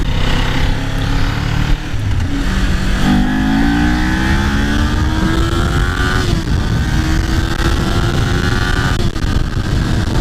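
Kawasaki Ninja 400 motorcycle, a 2018 model, accelerating and revving on the road with rising engine pitch through several gear changes, loud and close with heavy wind noise throughout.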